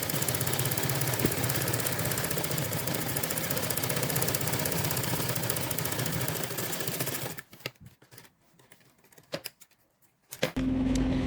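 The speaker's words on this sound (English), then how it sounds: "So let's go ahead and sew this all the way down." An electric sewing machine hums and chatters continuously while stitching along a corset edge, running loud and steady for about seven seconds, then stopping with a few short handling clicks and a final brief burst.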